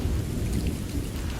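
Steady heavy rain with a low rumble of thunder from a thunderstorm, a dense continuous wash of sound with no voices.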